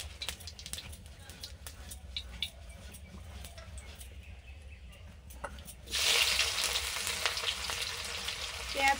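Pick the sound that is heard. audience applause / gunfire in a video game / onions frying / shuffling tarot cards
onions frying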